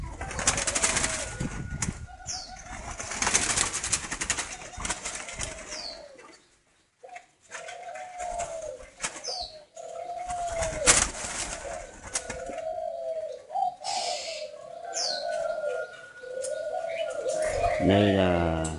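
Spotted doves coo in repeated soft, rounded phrases in a rural bird garden near Ba Vi mountain, northern Vietnam, with other birds chirping and brief bursts of noise around them.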